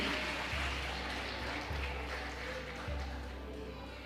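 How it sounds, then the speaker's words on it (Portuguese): A church congregation claps together in sustained, dense applause, steady and fairly loud throughout, with a low rumble and a few thumps beneath the clapping. "dê uma salva de palmas a Ele"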